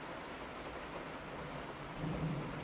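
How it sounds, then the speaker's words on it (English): Heavy rain pours steadily during a hurricane, a dense hiss of drops on surfaces, with a low rumble of thunder rising toward the end. "Now I'm hearing thunder and lightning."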